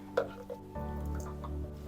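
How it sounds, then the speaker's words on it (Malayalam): A short splash and gurgle of water from rinsing a blender jar poured into a pan, close and brief, followed by a soft bubbling simmer. "ഞാനിപ്പോൾ മിക്സി കഴുകിയ വെള്ളം കൂടെ ആഡ് ചെയ്യുന്നുണ്ട്"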